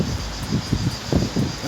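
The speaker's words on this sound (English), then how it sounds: "Wind." Wind gusting outdoors at a memorial to the Macedonian genocide in Skopje, North Macedonia, a steady low rumble of buffeting against the microphone with several stronger gusts swelling through, with no talking.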